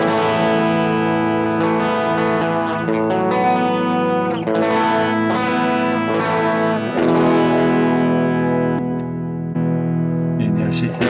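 An electric guitar runs through a pedalboard of effects into a Vox AC30 amp, playing sustained, slightly boosted chords and notes with a lush, echoing, layered tone that rings steadily throughout.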